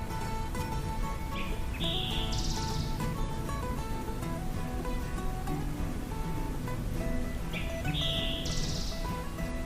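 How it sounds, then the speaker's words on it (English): An eastern towhee's song repeats twice, a bright ringing phrase ending in a higher trill, over a steady background hum of traffic or water. "But I now strongly suspect it was an eastern towhee."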